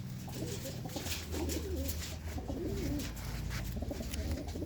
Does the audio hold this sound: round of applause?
no